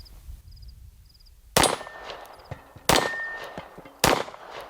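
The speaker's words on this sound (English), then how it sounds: "What do you guys say we knock down some poppers?" A 9mm Taurus GX4 pistol fires three sharp shots at a steady pace, each followed by a ringing clang as steel popper targets are struck and knocked down, with faint beeping before the first shot.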